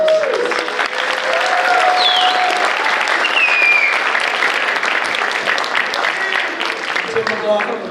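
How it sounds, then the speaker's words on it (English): A crowd applauds students after a Nichols Middle School holiday chorus concert, with sustained, loud clapping that fills the room and a few high whistles rising above it. "Round of applause for all the students."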